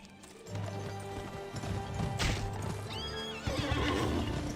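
In the western video game Gun, a horse whinnies loudly while hooves clip-clop in a steady gait, close and prominent over a low background of game ambience, without talk.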